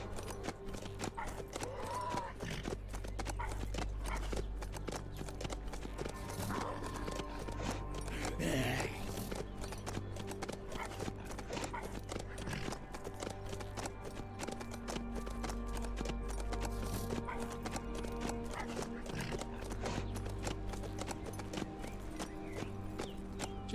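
Horse hooves clip-clop steadily in the survival video game HumanitZ as a rider travels across the map on horseback, an even rhythmic beat over a constant ambient background throughout.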